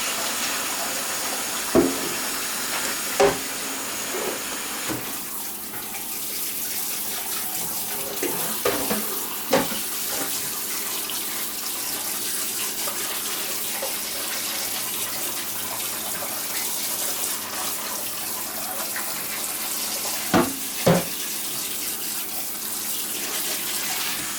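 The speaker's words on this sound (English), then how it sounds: "I'm just draining the water off." Water runs steadily into a kitchen sink as rinsed chicken wings from a family pack drain, with a continuous rushing hiss and a few brief clunks and splashes scattered through it.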